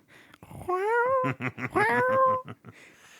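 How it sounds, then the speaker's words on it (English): A house cat meows up close, a drawn-out rising call followed by a second long wavering meow, loud and alone with no talk. "my cat's right next to me trying to get some"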